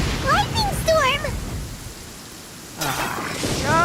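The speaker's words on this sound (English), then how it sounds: "Lightning storm!" A video-game thunderstorm hisses with broadband rain noise, fading out in the middle and then surging back. A voice with rising and falling pitch sounds over the storm at the start and again at the end.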